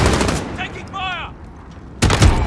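Gunfire in a Call of Duty: Modern Warfare match, with a burst of shots at the start, quieter in-game radio voice chatter in the middle, and a loud blast of shots near the end.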